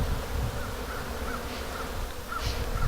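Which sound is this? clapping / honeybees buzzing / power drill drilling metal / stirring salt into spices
honeybees buzzing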